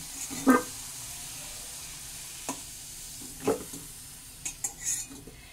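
Potatoes fried red in oil sizzle softly in the background while a spatula clinks and scrapes against the pan a few times as they are lifted out.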